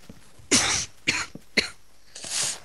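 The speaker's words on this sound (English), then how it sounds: "smoker's cough. Really shouldn't have that." Several harsh, raspy coughs close up, spaced irregularly: a strong one, two shorter hacks, then a final drawn-out cough.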